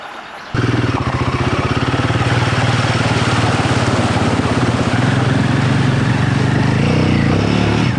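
An adventure motorcycle starts off near a small stream on a west coast ride, its engine steady and loud from the first half-second on, with a continuous revving drone.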